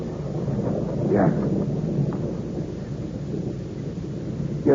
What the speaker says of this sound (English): Monsieur, it has started to rain.